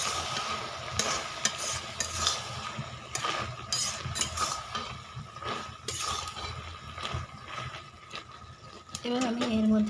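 Chicken curry with potatoes sautéing in a pan, partly covered, a continuous sizzle broken by repeated scraping stirs and metallic clinks of a spatula, fairly close, with no voices.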